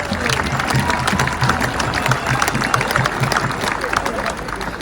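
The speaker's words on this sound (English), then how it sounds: "Big round of applause" A crowd at an outdoor farmers' protest rally gives a big round of applause, dense steady clapping and murmur for several seconds, with a low engine rumble underneath.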